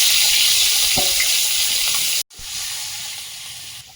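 Eggplant frying in oil in a wok, a loud steady sizzle and hiss with a brief break partway through, heard alone without talk.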